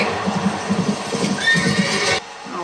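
A horse neighs and whinnies in a House of the Dragon episode, a rough, wavering call with hoof clatter and busy background sound, cutting off abruptly near the end.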